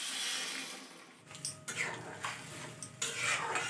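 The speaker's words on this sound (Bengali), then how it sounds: "এবার গ্রেভির জন্য জল দিয়ে দেব।" Water pours into a pan of jackfruit and egg curry in bursts, with soft splashing and clinks of utensils, fairly quiet and without talk.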